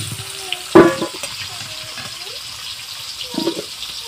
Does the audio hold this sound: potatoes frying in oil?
yes